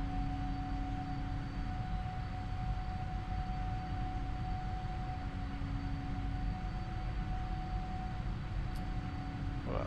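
Twin engines of a PMDG 777 airliner roar at takeoff power in a flight simulator, a steady, loud, unbroken rush with a constant whine layered over it, heard alone for the full stretch.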